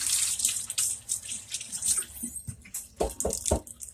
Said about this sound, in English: I want to wash my hands off